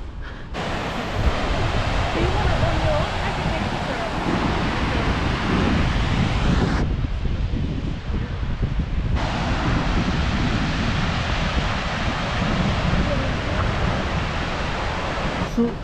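Godafoss waterfall in Iceland roars in a dense, unbroken rush of falling water, loud and steady throughout, mixed with gusting wind on the microphone.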